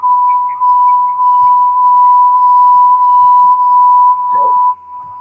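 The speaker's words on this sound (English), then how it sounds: "Background sound is beeping sound is coming." A steady electronic beep drones in the background of an online conference call, one loud sustained tone lasting several seconds before cutting off, with faint voices barely audible beneath it.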